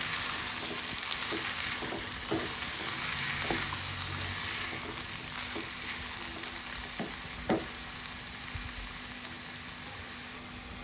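Ivy gourd pieces fry in a hot pan with a steady, close sizzle, broken by occasional scraping stirs and soft clicks of the spatula, with no talk.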